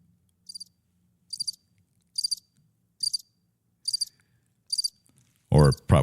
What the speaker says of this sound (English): I thought you were going to hit the crickets button there.